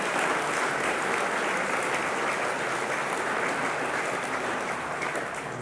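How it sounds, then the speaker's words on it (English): At a national sustainability showcase evening, a large crowd claps for the event sponsors, a thick, steady wash of applause holding at an even level throughout. "So huge, please, round of applause to all the sponsors that have contributed to that."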